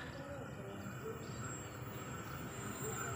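A commuter train rolls past a station near Garut on track 1, a faint steady rumble with a thin high whine throughout, heard alone at a distance.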